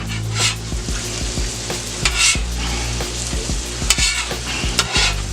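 Teriyaki-glazed salmon fries on a Steelmade flat top griddle with a steady, close sizzle, broken by repeated sharp scrapes and taps of a spatula against the steel surface.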